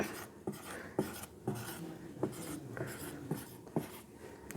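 A diagram drawn on a board, heard as a series of short, scratchy marker or chalk strokes in an irregular rhythm, up close in a quiet room with no speech.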